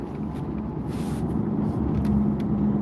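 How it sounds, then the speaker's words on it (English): A truck drives ahead on the road on a morning commute, heard as a steady, fairly loud low engine and road rumble throughout, with faint brief hisses on top. "It's going to be a long ride to work, man, behind this truck."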